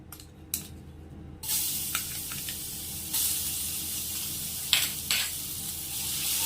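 Chilli paste mixed with dry ginger powder sautés in hot oil in a home kitchen, a steady soft sizzle broken by a few sharp spits and spatters.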